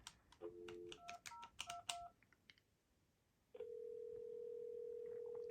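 A Panasonic KX-TGA950 cordless handset dials out for a test call: a quick string of beeping keypad tones, a short pause, then a steady ringback tone that holds to the end, all fairly quiet.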